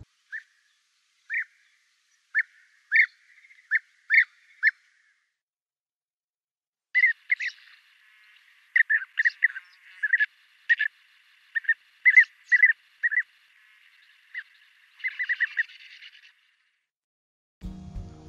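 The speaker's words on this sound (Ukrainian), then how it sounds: "послухайте звуки, якими спілкуються бджолоїдки" European bee-eater calls, short rolling purring trills repeated in irregular clusters with quiet gaps, fairly clear against a silent background.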